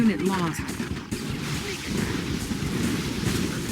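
Dense gunfire and artillery rumble from a battle in the video game Red Alert 2 keep up a continuous, rolling barrage with voices talking over it.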